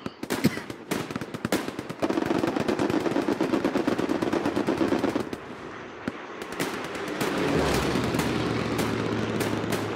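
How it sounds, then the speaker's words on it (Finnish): Dense bursts of automatic and rifle gunfire crackle from a slope in the Hell Let Loose video game, with rapid volleys through the first half, a brief lull, then a sustained rumble of battle noise. "Tuolta rinteestä tulee ammuntaa"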